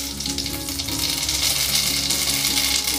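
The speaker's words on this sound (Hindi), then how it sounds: "तेल गर्म हो चुका है, अब हम इसमें सरसों डालेंगे," Mustard seeds sizzling and crackling in hot oil while tempering cabbage and chana dal, a dense steady fry with fine popping, close and loud throughout.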